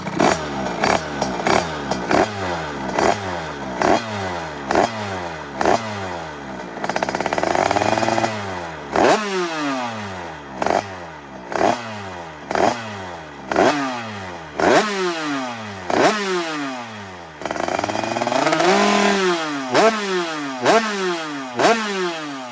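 A tuned MRT two-stroke dirt bike with a 100cc engine revs hard and repeatedly, sharp blips rising and falling in quick succession with a few longer sustained pulls, loud and close.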